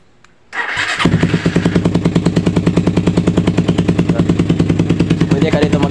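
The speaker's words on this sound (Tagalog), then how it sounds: "So yan yung tunog ng pipe natin" A Suzuki Raider 150 carbureted motorcycle fitted with a loud aftermarket exhaust pipe and quick throttle starts up, then idles and revs close by with a rapid, rhythmic, popping exhaust note.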